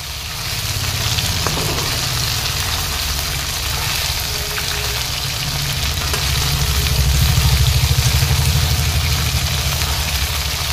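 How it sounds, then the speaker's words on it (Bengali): Soybean chunks frying in hot white oil in a wok, a steady dense sizzle running throughout and swelling slightly louder near the end, with no voices over it. "আমি খানিকটা সাদা তেল দিয়ে দিলাম আর সেই মিক্স করা সোয়াবিনগুলো এক এক করে ভেজে নিব।"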